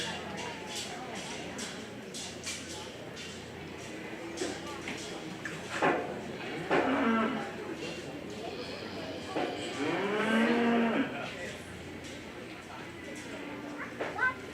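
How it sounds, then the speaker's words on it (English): A commercial breeding heifer in the show ring at the 2023 Greene County, Iowa fair lets out a couple of loud moos amid the bustle of the barn, with an announcer's voice and crowd chatter throughout. "Goes to Stella Lautner with her commercial breeding heifer"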